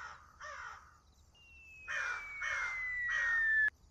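A crow caws five times in a steady rhythm, close and clear, with a thin rising whistle-like tone running through the later calls before a sharp cutoff.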